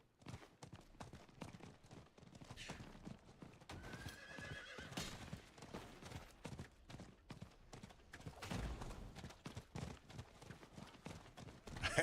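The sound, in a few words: horse hooves clip-clopping in a video game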